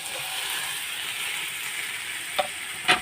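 A potato and egg dish fries in a pan with a soft, steady sizzle, broken near the end by two brief scraping clicks of a spatula.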